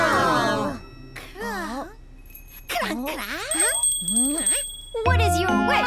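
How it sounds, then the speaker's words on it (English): A magical wish-granting bell in a Pororo Christmas cartoon gives bright, high tinkling rings in short bursts between cartoonish sing-song voices, mostly mixed under the characters' sounds. "Every time you ring the bell, I'll come and grant your wish."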